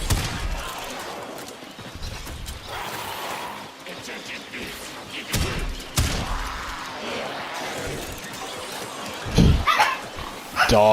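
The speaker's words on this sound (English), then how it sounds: "Sorry if you're hearing any barking there, my dogs go crazy at the slightest thing walking by." Pet dogs barking and yipping indoors at something passing outside, a few scattered barks and whimpers over steady background noise, fairly distant rather than close.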